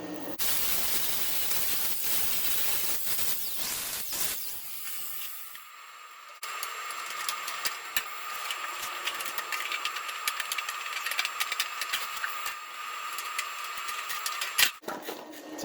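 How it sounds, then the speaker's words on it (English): Tin snips slicing strips of sheet metal while patching rust holes on a 1966 Dodge Dart GT, giving a steady close hiss and crackle of cutting with sharp snips and clicks, then a sustained metallic shearing texture after a brief pause. "I'm cutting strips of metal."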